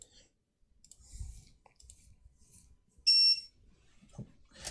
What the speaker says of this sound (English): That little buzzer is going to be so annoying.